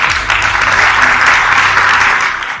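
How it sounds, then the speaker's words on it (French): Audience applause at an award ceremony, a dense and loud burst of many people clapping together that holds steady before tapering off at the end. "je pense que ça mérite une bonne main d'applaudissements."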